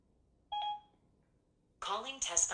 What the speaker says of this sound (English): Siri can now place phone calls on speakerphone.